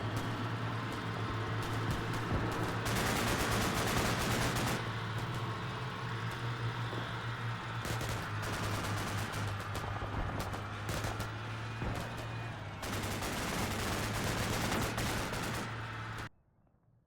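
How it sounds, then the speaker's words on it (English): A sustained firefight in the tactical wargame Combat Mission Cold War: dense bursts of rifle and machine-gun fire crackle over a steady engine drone, with heavy volleys rising and easing in waves before the sound cuts off abruptly near the end. "Lots of fire being traded between them."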